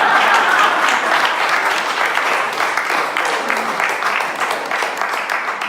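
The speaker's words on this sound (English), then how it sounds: "You guys can clap at the end of that" Audience clapping at a campaign event for a Providence mayoral candidate, dense and steady, loud and close, and holding for several seconds without a break.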